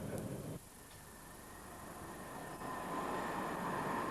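A train passing on a main railway line, heard as a steady rumbling roar at moderate distance that drops briefly then swells again, with no voices.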